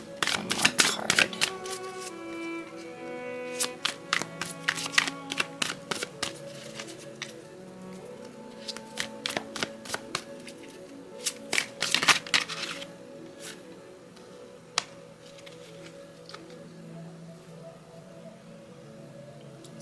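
Tarot cards shuffled by hand, close and crisp, with bursts of riffling snaps and flicks in uneven clusters, then quieter single card taps toward the end.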